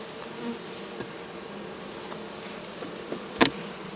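Honey bees buzzing around a hive freshly removed from a wall, a steady faint drone with scattered individual buzzes and one brief louder burst near the end.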